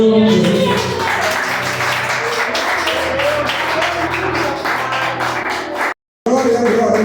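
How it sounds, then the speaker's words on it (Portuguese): A church congregation applauds during a family worship service, a dense wash of clapping mixed with music and voices that runs steadily for about six seconds, cuts out briefly, then resumes. "Levante a tua mão e aplaude ao Senhor em nome de Jesus."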